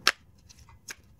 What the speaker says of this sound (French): Allez, je vais tirer une dernière carte.